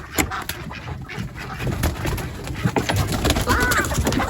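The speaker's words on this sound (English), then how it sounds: "I'm just getting out to let chickens out this morning" Birds squawk and flutter in a busy, close flock, with soft clucking and rustling movement throughout.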